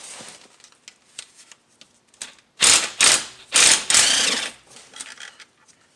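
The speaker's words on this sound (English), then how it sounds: "I'm gonna be using this little impact gun here just to take them out" A small impact gun backs out T27 Torx screws on the transmission pan of a 2008 Dodge Charger. It makes a few loud, close bursts of rattling hammering after light clicks and handling noises.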